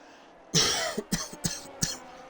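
A burst of harsh coughing, four or five rough coughs in quick succession, close and fairly loud with no talking.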